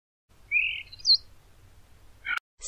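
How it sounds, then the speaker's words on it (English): A starling sings a few thin, rising whistled notes over a faint low rumble, followed by a sharp brief click and another short high call. "Starling."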